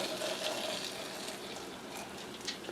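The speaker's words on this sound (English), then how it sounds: "so you just pour your boiling water" Boiling water poured over freshly foraged cleavers, a soft close splashing trickle that runs steadily for a couple of seconds at low volume, with no voices.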